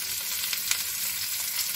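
Long-cut okra frying on a tawa hisses with a steady, bright sizzle, close and continuous, with a few faint stirring taps underneath and no talking.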